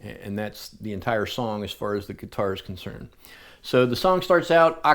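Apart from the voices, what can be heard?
No everyday noises stand out.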